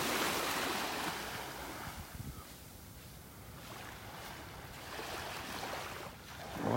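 Ocean surf washes onto a beach in North Naples, Florida as the tide comes in, a steady rushing wash with gentle swells and some wind buffeting the microphone, with no talking.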